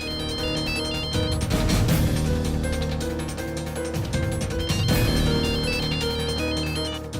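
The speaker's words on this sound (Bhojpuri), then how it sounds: "पिक अप द फोन" A melodic electronic phone ringtone plays loudly and continuously, its repeating tune looping throughout with no voices.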